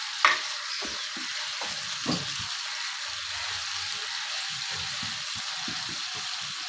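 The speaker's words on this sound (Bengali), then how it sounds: "জলটা ফুটলেই কিন্তু আমি এর মধ্যে মাছ দিয়ে দেবো, ভেজে রাখা পাবদা মাছগুলো দিয়ে দেবো।" Previously fried pabda fish go into boiling curry water, which bubbles and sizzles softly in a pot. A couple of light clinks and plops stand out near the start against the steady, faint simmer.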